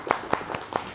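At a Korean church service, a congregation claps to welcome new young members and a returning member: a handful of sparse, separate hand claps, moderately close, with little overlap.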